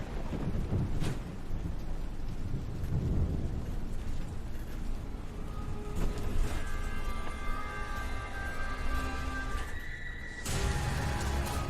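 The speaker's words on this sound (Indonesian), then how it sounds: "itu mau hujan deres kayaknya" Heavy rain pours steadily in a dense, continuous wash while thunder rumbles low beneath it, with a louder crack near the end.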